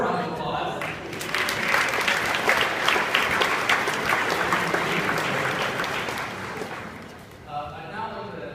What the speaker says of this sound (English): we give her a round of applause?